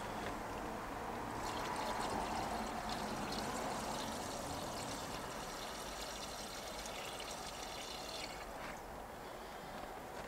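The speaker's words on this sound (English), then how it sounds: "All we're going to do is fill the hose." Liquid pours steadily into a hose while a Mercury 3.0-litre inboard/outboard boat engine is winterized, a continuous close trickling wash with no one talking.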